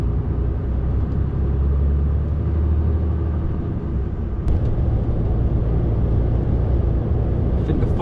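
Car driving along the A46 in fog, a steady low road rumble and engine drone close inside the cabin, continuous with a faint bump partway through.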